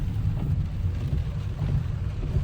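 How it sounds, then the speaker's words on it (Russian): Steady rain falling, a dense low rumbling wash of drops with no pauses, fairly close and continuous throughout. "И пошел дождь."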